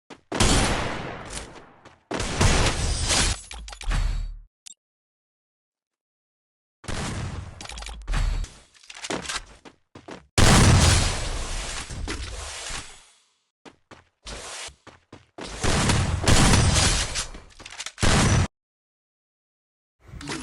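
Bursts of gunfire with headshot hits in a mobile shooter game, several loud rapid volleys separated by short silences.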